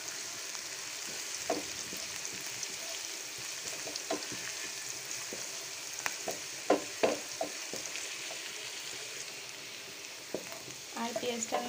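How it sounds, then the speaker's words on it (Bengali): Onions frying in a pan for a lentil stem dish: a steady soft sizzle at moderate distance, dotted with scattered stirring clicks and scrapes, a little busier near the end. "পেঁয়াজের কালারটা চেঞ্জ হওয়া পর্যন্ত এটা ভাজতে থাকবো।"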